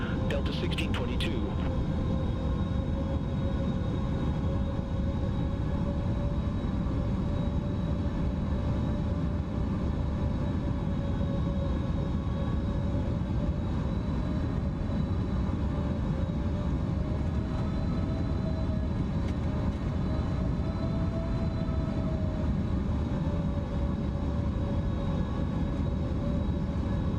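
Steady roar of a PMDG 777-300ER's jet engines on its takeoff roll in Microsoft Flight Simulator 2024, a loud, constant low rumble with a faint whine above it, unbroken throughout.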